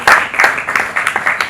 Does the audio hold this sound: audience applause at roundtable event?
yes